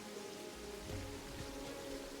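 Rain falls steadily in a video game, a continuous broadband hiss with no voices, some low rumbling tones underneath.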